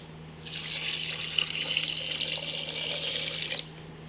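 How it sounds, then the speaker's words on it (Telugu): Steady rush of running water pouring into a pressure cooker pot with mutton pieces for several seconds, starting and stopping abruptly, with no voices. "ఒక లీటర్ దాకా వాటర్ పోసుకోవాలండి"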